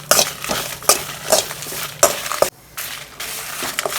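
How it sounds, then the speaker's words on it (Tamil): Dried red chillies and garlic roasting in a pan for peanut chutney powder, with a spatula scraping and stirring in repeated dry strokes and a light sizzle underneath, close by and with no talking. "ஒரு 15 வரமிளகாய் வச்சுருக்கேன், அதையும் இதோட போட்டு வறுத்துக்கலாம்."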